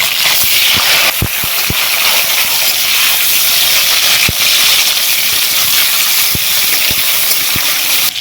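Tomato dropped into hot oil with cumin, panch phoron, bay leaf and slit green chilli for khichuri, a loud, steady, close sizzle and hiss with sharp spitting pops throughout.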